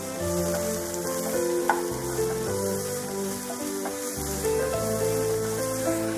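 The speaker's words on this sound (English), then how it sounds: "We'll add onion, finely chopped onion." Finely chopped onion sizzles steadily in hot oil in a pan for dal fry, a continuous close frying hiss with occasional stirring scrapes and no talking.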